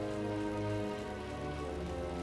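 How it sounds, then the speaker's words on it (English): Steady rain falls throughout a town in Final Fantasy XII The Zodiac Age, a dense, even hiss of drops on surfaces that holds at constant loudness with no voices. "it's a sad day in a movie or a video game when it's raining for no apparent reason"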